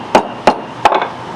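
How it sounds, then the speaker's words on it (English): Three sharp hammer blows flattening a braided leather strap, close and distinct, evenly spaced with a short scuffing rub after the last strike. "hammer it down a little bit."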